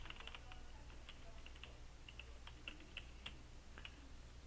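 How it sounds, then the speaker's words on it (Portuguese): Someone types numbers on a computer keyboard in a quiet room, a faint, irregular series of soft clicks over a low background hum. "Não dá, tem que digitar."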